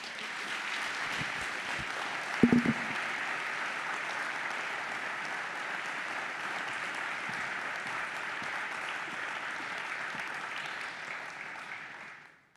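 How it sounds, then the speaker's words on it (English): Sustained audience applause fills the closing event of the Building Bridges 2023 conference, a steady dense wash of many hands clapping at even volume for about twelve seconds, with a brief louder knock early on, before fading out at the end. "I think you deserve a big applause from all of us."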